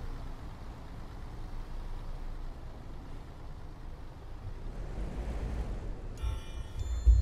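A bus engine rumbles low and quiet while driving in the OMSI 2 simulator game, swelling slightly midway before a brief electronic tone sounds at the end.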